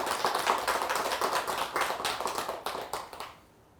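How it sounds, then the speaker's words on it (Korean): An audience at a Buddhist sermon claps their hands in a steady burst of applause lasting a few seconds before it quickly dies away. "이럴 때 여러분들 박수를 한번 주셔야 됩니다"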